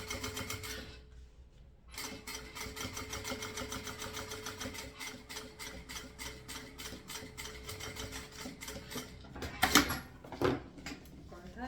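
A sewing machine runs steadily, stitching a bag made of synthetic material with rapid, even needle strokes, pausing briefly near the start and ending with a few louder knocks and clicks.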